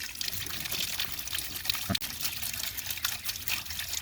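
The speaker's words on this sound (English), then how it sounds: "You can hear it bubbling air out of it." Steady rushing, bubbling water with gurgles and a few drips from a ram pump bubbling air out, continuous and fairly close throughout.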